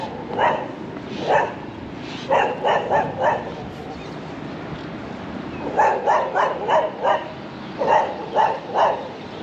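Dogs bark in short bursts of two to four on a street in Khon Kaen, Thailand, fairly close and loud, with pauses between the groups of barks.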